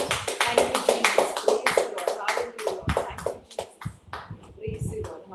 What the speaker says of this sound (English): The mighty clap offering to the Lord.